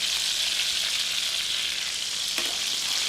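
A chicken cutlet fries in oil with a loud, close, continuous sizzle that stays steady, broken only by one brief clink near the end, with no voices.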